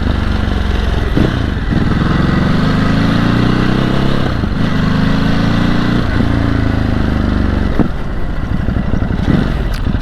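Motorcycle on stock exhaust, ridden along a potholed road, its engine droning steadily and loud throughout with rising and falling harmonic pitch as it pulls through the gears, plus heavy wind rush.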